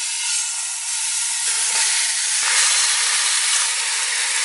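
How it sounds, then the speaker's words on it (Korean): Pork tomahawk searing in a pot for kimchi jjim, a loud steady hiss of hot fat like rushing steam with a few faint spatters, close up and with no one speaking. "이제 본격적으로 고기를 지져봐요"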